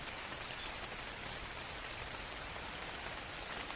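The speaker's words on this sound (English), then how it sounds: "Awesome, it rains. You get hydrated in the rain." Rain in the survival game Ark: Survival Evolved falls as a steady, even hiss of dense drops, quiet and unbroken throughout, with no voices.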